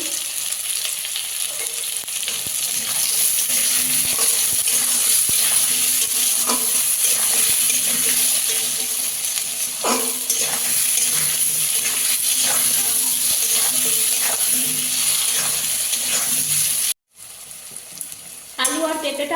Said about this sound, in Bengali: লবণ হলুদ দিয়ে পেঁপেটা একটু ভেজে নেবে